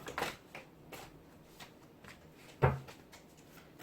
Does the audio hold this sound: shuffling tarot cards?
yes